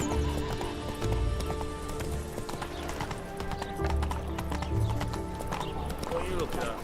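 A horse gallops in The Witcher 3: Wild Hunt, with rhythmic clip-clop hoofbeats, a whinny and the game's background sounds, with a voice briefly talking over it.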